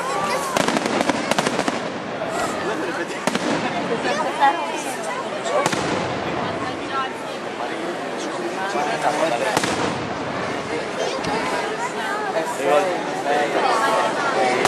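Fireworks crackle and bang repeatedly at the San Gregorio festival in Catania, a dense rapid barrage of sharp bursts with a crowd chattering beneath throughout.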